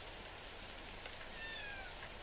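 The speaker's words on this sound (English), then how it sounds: "In the rain, I see 3 cats run by." Video game sound: rain patters steadily as a backdrop and a faint cat meow rises briefly in the middle, with no talking.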